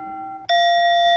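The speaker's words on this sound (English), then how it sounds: "different bells" A meditation app's electronic bell chime rings clearly: one sustained tone, then a brighter second bell strikes and rings on, loud and close with nothing else heard.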